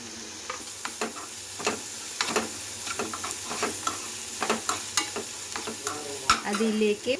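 A spatula stirs a potato vada filling with coriander leaves in a pan, producing repeated scraping strokes over a low sizzle, close and steady, with no talking.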